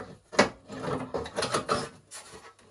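The door of a 1964 General Electric M400 vintage American streetlight is handled and fitted back into place, giving a sharp knock followed by a series of scraping, rubbing and clattering contacts, close by.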